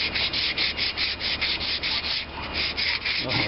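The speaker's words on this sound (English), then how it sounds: "you can round it over just by one stroke of the sandpaper" Sandpaper rubbed by hand in steady back-and-forth strokes, preparing a Maytag Model 72 engine part for paint; a loud, close, continuous rhythmic rasp of about a dozen even strokes with no talking.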